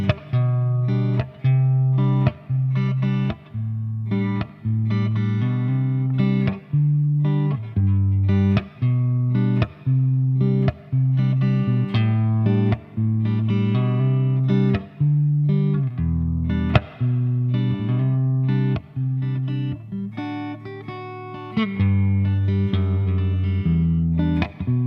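Electric guitar played through a 120-watt Orange vintage amplifier on its clean channel, turned up loud, with steady strummed chords and short rhythmic breaks between them, no voices.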